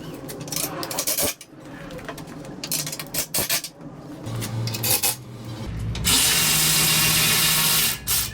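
Bumper bolts on a Ford Bronco are being tightened with tools, making close metallic clicks, scrapes and rattles in uneven bursts, then a sustained whirring, power-tool-like buzz near the end, with no talking.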